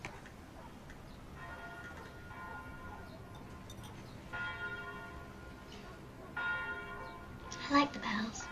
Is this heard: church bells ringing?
yes